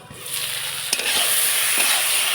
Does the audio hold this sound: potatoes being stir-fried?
yes